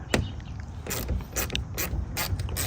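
Three 8mm bolts being removed on a 2022 Jeep Grand Cherokee L, heard as close, rapid ratchet clicks in short bursts over a low mechanical background, with no talking.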